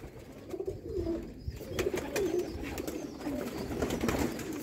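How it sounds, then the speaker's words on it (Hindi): Pigeons coo softly on a Sialkot rooftop, repeated low calls in a gentle rhythm, moderately close against faint background noise. "कबूतर है"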